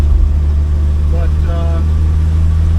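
An old car with a three-on-the-tree manual transmission runs steadily along a 50 mph road near 40 mph, its engine drone loud and constant with a brief rising tone in the middle.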